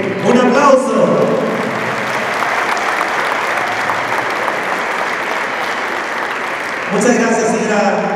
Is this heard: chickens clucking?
no